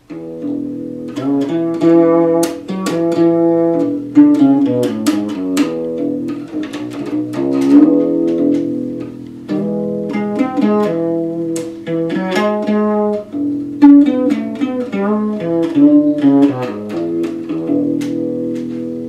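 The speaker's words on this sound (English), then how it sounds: "So that's the bass unplugged." A Jazz Accomplice acoustic bass guitar played unplugged, plucked notes ringing out in a melodic line with rhythmic attacks, fairly quiet and alone without speech.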